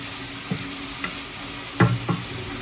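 A black-eyed pea tomato curry with fresh coriander leaves is stirred in a pot under a low, constant simmering hiss, with a few soft scraping knocks from the spoon and no voices.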